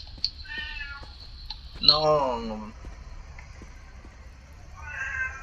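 A cat meows once nearby, a clear, drawn-out wavering call in the middle, with a person's brief speech and faint video game sounds around it.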